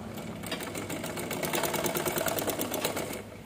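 A sewing machine runs steadily, stitching a child's langa jacket, with a fast, even mechanical rattle and hum that stays close and fairly quiet throughout, no voices over it.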